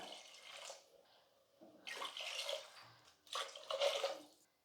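Water pours in three separate bursts, splashing into seeraga samba rice in a pressure cooker for mushroom biryani, with short pauses between each pour, close and moderately soft.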